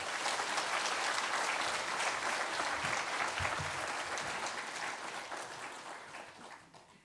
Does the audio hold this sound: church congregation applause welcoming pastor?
yes